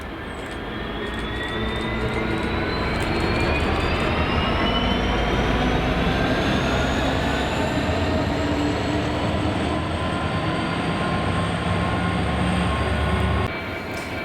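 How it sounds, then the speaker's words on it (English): Freightliner Class 66 diesel locomotive 66541 working a freight at Barassie Yard, a loud, close, sustained engine roar with a rising whine as it labours past, cutting off abruptly near the end. "This is the 16th at Barassie, where we see Freightliner 66541 working OJ66, 1143 Millerhill to Barassie Yard."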